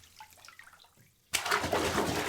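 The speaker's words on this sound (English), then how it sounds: "Her breath synced with the gentle burble of the bath" Bath water flowing in a bubble bath, a sudden gush of running, burbling water that starts after a quiet moment and continues steadily, close and soft.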